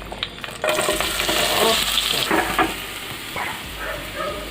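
Sliced onions sizzle and crackle loudly in hot oil in a pan as a home-style liver curry is started, with steady frying noise and occasional stirring scrapes throughout.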